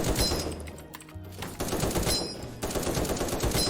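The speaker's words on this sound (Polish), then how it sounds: "Oj, z tyłu jeszcze ktoś strzela." Rapid automatic gunfire rattles from behind in the browser shooter game krunker.io, with dense bursts of shots and brief gaps, moderately loud and without speech.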